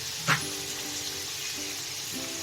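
Prawns frying in a pan for a Bengali jackfruit-and-prawn dish: an even, gentle sizzle and hiss throughout, with one brief sharp tap near the start.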